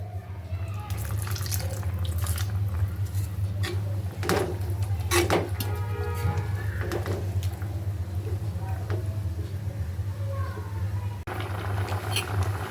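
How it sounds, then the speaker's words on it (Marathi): Water poured into a pan of banana flower vegetable cooking with onion-coconut paste: soft splashing and trickling with a few sharper splats and clinks over a steady low hum of the kitchen. "शिजण्यासाठी थोडं पाणी घालूया"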